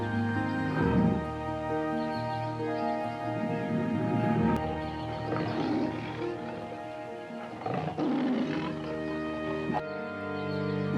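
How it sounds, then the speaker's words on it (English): A lion roars in a series of deep, throaty bursts, spaced a few seconds apart. Steady tonal background music plays underneath the whole time. "Lion. It's a lion."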